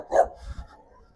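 A single short, sharp bark from an aggressive dog in a rural garden area, followed by a faint low huff as it fades out.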